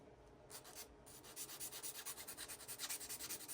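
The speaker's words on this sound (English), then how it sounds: "So if you got anything that's not jiving right, you can easily file it down or sand it off." Sanding a 3D printed glass-fibre ABS part, a steady dry abrasive rub with rhythmic back-and-forth strokes that grow louder and more regular after the first second, close up and with no talking.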